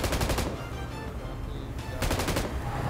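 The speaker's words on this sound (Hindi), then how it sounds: "फिर से फायरिंग देता हूँ उस पर" M249 light machine gun firing in the BGMI mobile battle royale game, with two loud rapid bursts at the start and near the end and a lower steady rumble between them.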